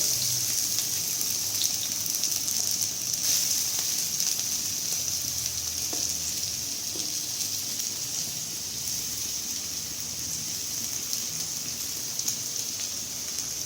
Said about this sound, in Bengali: আমি আরেকটুখানি তেল দিয়ে নিয়েছি, পেঁয়াজগুলো তেলে দিয়ে দেবো।